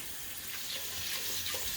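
Water runs from a kitchen tap over basmati rice during rinsing, a soft hissing stream with faint splashes, steady and moderately quiet, no voices.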